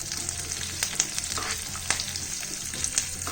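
Green chilies and urad dal sizzle steadily in hot oil for a tadka, a close, continuous crackling fry with small pops and a faint stirring scrape.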